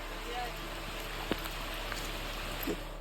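Rain falls steadily on Girnar mountain as a soft, even hiss with a few faint drop taps, heard close by and without any talk.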